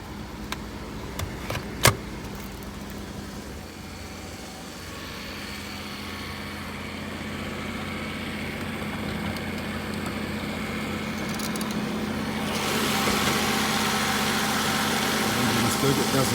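A 1996 BMW 750 IL with about 221,000 km starts up with a brief crank, then settles into a smooth, steady idle, with the engine note swelling louder near the end.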